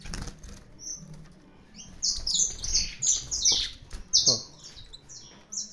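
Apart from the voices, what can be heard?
Brazilian saffron finch (canário da terra) chirping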